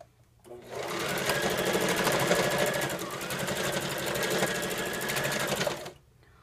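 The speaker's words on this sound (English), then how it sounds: "I press the reverse button to lock the stitch in place" A sewing machine stitches fabric ties onto the narrow bib section of a garment in one continuous burst of about five seconds, a fast, even mechanical chatter that starts and stops abruptly.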